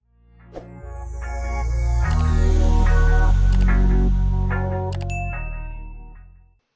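A notification bell effect: a bright metallic ding that swells into a long ringing chime with layered tones, then fades out alone with no voices.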